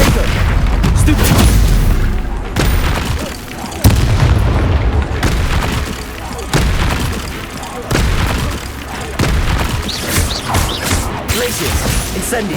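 Booming spell blasts and crashes in Hogwarts Legacy gameplay, loud bursts every second or two over continuous game sound, with a player's voice shouting spell names throughout.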